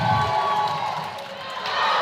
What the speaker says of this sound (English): The whole crowd was standing up and excited.